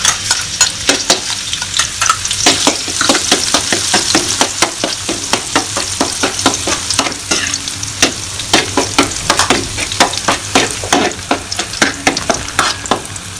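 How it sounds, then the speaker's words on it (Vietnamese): Minced shallots and garlic fry in a hot pan with a steady, crackling sizzle broken by frequent sharp pops and stirring scrapes, close and continuous, with no talking. "Chúng ta cho hành với lại tỏi đã bằm sẵn vô phiên cho nó vàng chết hơn."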